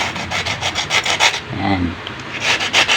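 Sandpaper scrubs a Super Kalan stove burner in quick repeated back-and-forth rasping strokes, close and fairly loud, with a short pause midway before the rhythm resumes.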